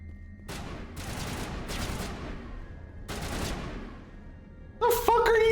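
Bursts of automatic gunfire in the video game Mass Effect, several sustained volleys with short gaps, loud and close, then a brief electronic game effect at the end.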